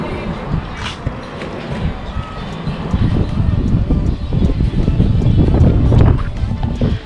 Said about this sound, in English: So it's expected to be a bit windy around here.